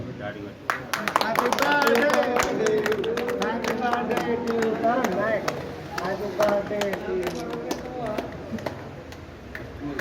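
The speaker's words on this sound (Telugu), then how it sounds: "చప్పట్లు కొట్టరు" A small crowd claps in scattered, uneven bursts at a birthday cake-cutting for a TRS district youth leader, the claps mixed with loud overlapping voices and singing.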